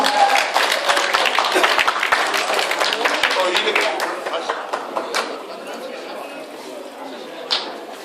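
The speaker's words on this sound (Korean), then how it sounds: "박수 보내주세요" Applause and scattered clapping from a crowd at a charity amateur golf tournament award ceremony, dense at first and then thinning into sparse claps with murmuring voices.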